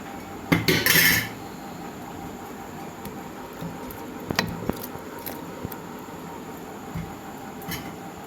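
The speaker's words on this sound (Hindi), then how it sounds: "ये दूध अच्छे से फट चुका है और इसमें हम छान रहे हैं।" Curdled milk is strained through a strainer while making kalakand, with a short burst of metal utensil clatter at the start, followed by faint intermittent clinks and dripping in a quiet kitchen.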